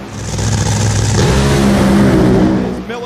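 A nitro-fuel drag racing car launching off the line at a racing event: a loud, continuous engine roar that builds sharply as the car accelerates away, then fades near the end.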